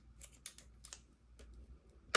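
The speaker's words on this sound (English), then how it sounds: "These are not the scissors I wanted" Scissors snip through crochet yarn in a few quick, quiet cuts, close by, in an otherwise near-silent room.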